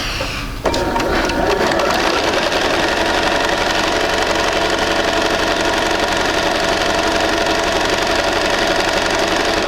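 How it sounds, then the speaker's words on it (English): A sewing machine runs steadily, stitching a quarter-inch seam through quilting fabric for a sampler block, starting abruptly after a brief pause and then humming continuously and loudly with a fast mechanical whir close up. "we're going to start here and sew a 1/4 inch from the line on either side"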